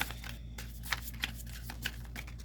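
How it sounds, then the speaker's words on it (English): Large tarot cards shuffled by hand, soft papery riffles and light slaps recurring at uneven intervals, close and quiet over a low steady hum. "These cards are so hard for me to shuffle because they're so big"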